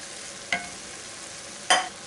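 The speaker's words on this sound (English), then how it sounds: "Next I'm going to add a can Rotel with the diced tomatoes and chilies." Canned Rotel diced tomatoes and green chilies land in a hot cast iron pan of seared venison for enchiladas, giving two brief, sharp sizzling bursts about a second apart over a quiet background.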